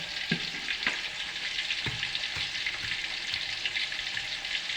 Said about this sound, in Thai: นี่ครับนี่คือวิธีการทอดหมูสามสั้นครับให้กรอบๆต้องมีแมงเม่าด้วย